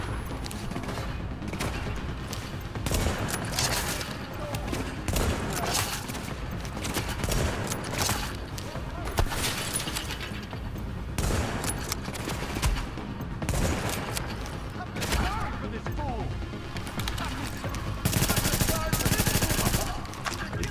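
Sustained gunfire in Tom Clancy's The Division, dense bursts of shots and automatic fire from a marksman setup during a firefight with waves of hostiles, loud and continuous with heavier volleys near the end, voices faintly underneath.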